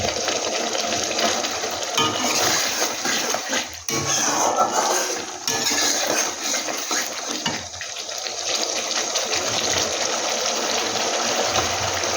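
Water is poured from a rinsed spice bowl into a pan of spinach curry, making a loud, steady splashing pour that runs nearly unbroken, with a brief dip midway.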